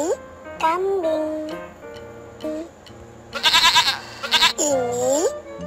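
A goat bleats several times in short wavering calls, with a loud burst midway, alongside a speaking voice.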